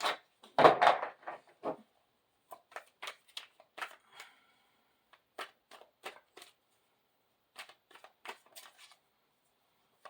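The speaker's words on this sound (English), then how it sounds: "I can shuffle better than that." Tarot cards are shuffled by hand in short, crisp riffling bursts, with a heavier flurry at the start and then lighter intermittent shuffles, close and quiet against silence.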